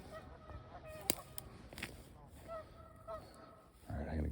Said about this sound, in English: A bunch of geese out here getting kind of annoyed with my presence.